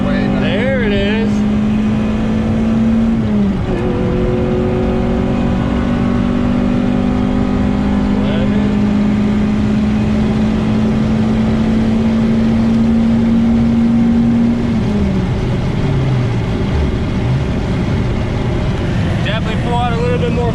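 A street-tuned Honda VTEC engine held loud and close at high revs, its pitch climbing steadily through the rev range and then dropping as the throttle lifts, with voices talking over the engine.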